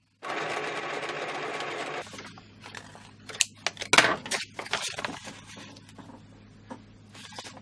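A sewing machine stitches nylon thread through strips of map paper for a collage board in an undulating, fluting stitch. A steady close whir runs for about two seconds, followed by rustling and crinkling of paper being handled.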